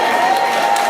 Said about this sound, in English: So ladies, clap them up.